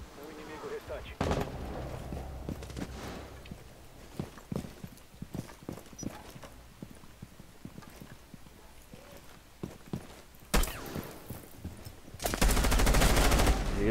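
Gunfire cracks out in scattered single shots and short bursts during a Rainbow Six Siege match, ending in a louder sustained volley, with players talking over the action.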